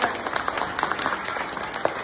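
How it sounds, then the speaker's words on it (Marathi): A school audience claps for a seventh-grade student's speech at a zilla parishad school: a short burst of dense, steady applause from many hands. "सगळ्यांनी वैदानीसाठी जोरदार टाळ्या"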